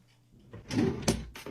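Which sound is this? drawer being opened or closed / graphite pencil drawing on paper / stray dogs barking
drawer being opened or closed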